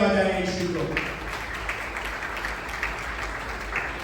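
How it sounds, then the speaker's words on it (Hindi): A church congregation at a Sunday sermon claps together in praise of Jesus, a dense, sustained wash of applause that rises just after a voice fades at the start. "आइए जोरदार तालियां बजाएं यीशु को"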